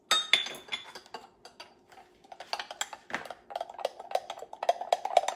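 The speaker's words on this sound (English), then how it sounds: "quickly whisk in the gelatin powder. I'm just going to stir it in." Gelatin powder being whisked into elderberry syrup in a 2-cup measuring cup: rapid, close clinking and ticking of a whisk against the cup, irregular at first, then settling into a quick steady rhythm.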